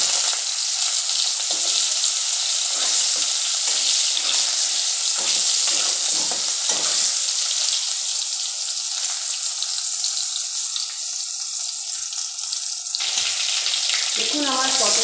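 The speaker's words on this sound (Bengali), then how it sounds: "এবার এই একই তেলে আমি পটলগুলোকেও একটু ফ্রাই করে নিই।" Pointed gourd fries in hot oil with a steady, bright sizzle and crackle throughout, and a few faint stirring sounds near the end.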